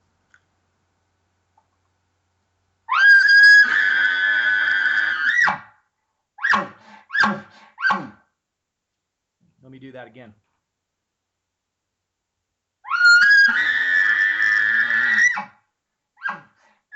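Imitated elk bull bugle: a voice rises into a long whistling scream, breaks into a lip ball, then several short deep grunts, with a second full bugle later; someone briefly speaks between calls.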